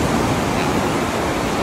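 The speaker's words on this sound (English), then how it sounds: "It is really strong waves, and so when you're in this water, it will push, it will pull" Strong ocean waves break on a beach in Tenerife, a dense, loud, continuous roar of surf and churning water with no voices.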